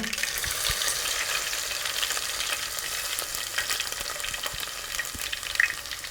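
Mustard seeds, cumin and crushed garlic crackling in hot oil for a stingray fish curry, a continuous fairly quiet sizzle with scattered small pops and brief stirring taps, no talking.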